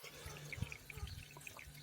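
Water trickling and dripping as a small pump recirculates it around a bucket in a DIY solar hot water prototype for a camper van, faint and close with a low steady hum beneath.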